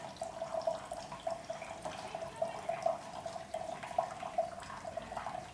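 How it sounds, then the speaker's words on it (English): Water drains through the inner tube of a Pythagorean cup and falls from its base, giving a soft continuous trickle with light splashing and dripping, faint and steady throughout. "the water is pouring through the inner tube and falls from the base of the cup"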